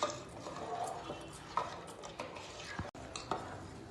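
A spoon stirs Nawab chicken curry in a pot, making soft scraping and clinking strokes against the metal at an uneven pace over a low simmer.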